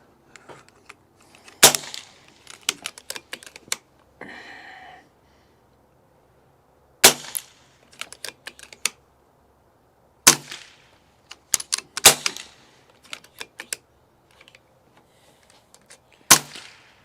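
Two BRK Ghost airguns fire at a 50-yard range, sharp isolated cracks in irregular bursts with faint pings and clicks between shots, loud and close with silence in the gaps.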